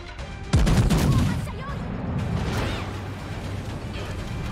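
Naval gunfire from an enemy cruiser in a warship battle game: a sudden loud close blast followed by a decaying rumble and lingering battle noise.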